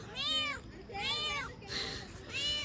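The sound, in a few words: cat waiting for food plate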